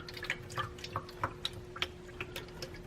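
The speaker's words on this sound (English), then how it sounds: "You're going to take some fresh coolant and fill to that mark." Fresh coolant trickling and dripping into the plastic coolant tank of a Ford Mustang Fox Body, a series of small, quiet liquid drips and splashes over a faint steady hum.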